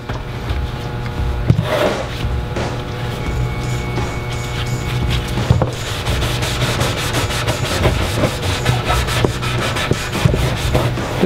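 A graffiti removal mop buffs a surface to clear a tag, giving a steady, close scrubbing and rubbing noise with repeated stroke-like swishes that runs throughout without talk.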